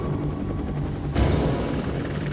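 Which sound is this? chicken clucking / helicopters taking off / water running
helicopters taking off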